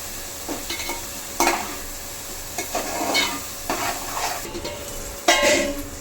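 Chicken khurma gravy fries in a pan with a soft, close sizzle, punctuated by several scraping stirs that swell and fade at irregular intervals.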